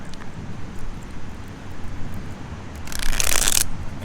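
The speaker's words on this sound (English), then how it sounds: "I'm just going to go ahead and shuffle it one more time." Tarot deck shuffled by hand, a quick riffling flutter of cards near the microphone that rises briefly and loudly over a low rumbling background.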